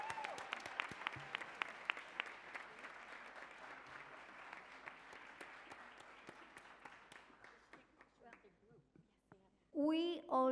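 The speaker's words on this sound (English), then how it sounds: "Can we just have a round of applause for everyone again?" An audience applauding at a community event on labor and health activism, with dense clapping at a steady level that thins and fades out, followed by a brief burst of voices at the end.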